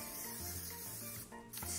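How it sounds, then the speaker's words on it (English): Cooking spray hissing briefly onto a casserole pan, a soft, quiet spray burst with light rubbing, heard close up and alone. "Spray down your pan so nothing sticks while it's cooking"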